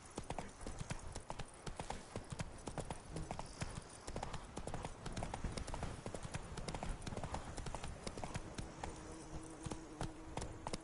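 Hooves of a horse in The Witcher video game clip-clop steadily and rapidly in a continuous trotting rhythm, loud and close throughout, with faint speech briefly under it.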